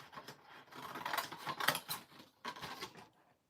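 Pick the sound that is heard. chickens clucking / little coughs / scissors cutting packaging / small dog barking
scissors cutting packaging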